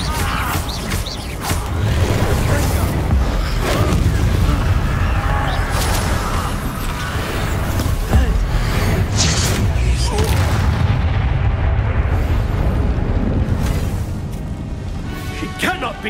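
Repeated Confringo blasting spells exploding in Hogwarts Legacy: heavy, rumbling booms and crashing bursts pile on top of each other in a dense, loud barrage, then ease off slightly near the end.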